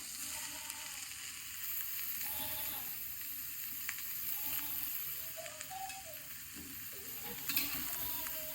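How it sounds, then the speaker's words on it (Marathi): Chopped garlic frying in a pan for onion chutney, a steady close sizzle with occasional stirring scrapes and small pops throughout. "हे फ्राय करून घेणार आहे आणि नंतर मग फोडणी देणार आहे कांद्या चटणीला"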